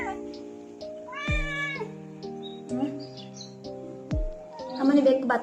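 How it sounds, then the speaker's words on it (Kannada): A cat meowing up close indoors, giving a few drawn-out, tonal meows separated by short pauses. "ಗಾಯ್ಸ್ ಅಂತ ಗೊತ್ತು ನಮ್ಮನೆಗೆ ಮತ್ತೊಂದು ಬೆಕ್ ಬಂದಿತ್ತು"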